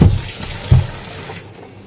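A kitchen tap runs into a sink while vegetables are rinsed, with a splashing rush of water and a couple of louder gushes before the flow fades toward the end.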